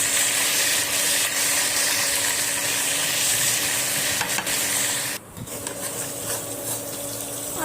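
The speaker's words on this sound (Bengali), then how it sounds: "এবারে ওর মধ্যে আমি আলুগুলো ভালো করে লবণ আর হলুদ দিয়ে পুরো সিদ্ধ করে ভেজে নেবো" Potatoes cooked with salt and turmeric fry in oil in a wok, a loud continuous close sizzle that drops and softens for the last couple of seconds, with faint scraping stirs.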